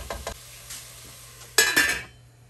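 A metal lid clanks onto a cooking pot of chicken stew with a sharp clink and brief rattle, preceded by a few quieter utensil taps over a faint simmer, close and without speech.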